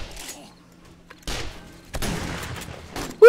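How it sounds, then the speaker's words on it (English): Pump-action shotgun fire during a co-op horde night in 7 Days to Die, heard as a few loud, separate blasts spaced about a second apart, each with a short tail and some background game noise. "I got a pump action shotgun, so that's a little better."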